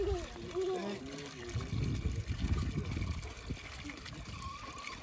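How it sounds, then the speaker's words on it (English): Water trickling and splashing from a hand pump at a low, uneven flow, with faint voices and background noise underneath. "Slowly water flows."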